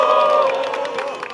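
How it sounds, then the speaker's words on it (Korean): A large crowd at a political party's launch ceremony for its special committees, cheering and clapping in a dense, steady roar with ringing voices mixed in, loud and continuous for the whole stretch. "큰 박수 부탁드립니다."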